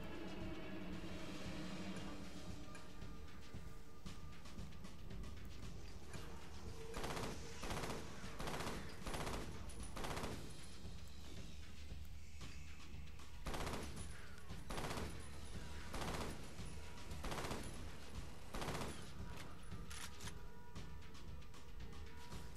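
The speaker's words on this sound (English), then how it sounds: "GA32 assault rifle." Bursts of GA32 assault rifle fire ring out in the shooter F.E.A.R. Perseus Mandate, as a series of sharp, loud volleys spaced through the middle of the clip over steady game ambience.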